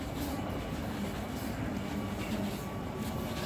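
A tram rumbling at a metro tram station in Manchester, a steady close rolling rail noise with a continuous low hum and no voices.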